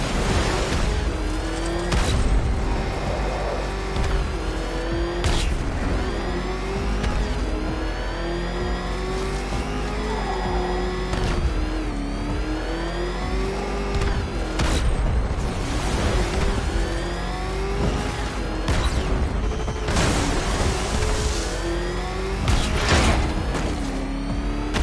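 A car engine in a video game, an old, ramshackle motor roaring steadily at high revs with repeated surges of acceleration and mechanical clatter, loud and continuous throughout.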